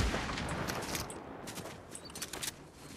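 Rapid bursts of gunfire from the video game Fortnite crackle continuously for a few seconds, dense and overlapping like a firefight, fairly loud without any talk over it.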